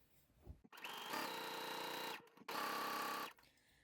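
Sewing machine making a first pass on a folded chiffon hem, two quiet close runs of about a second each separated by a short pause.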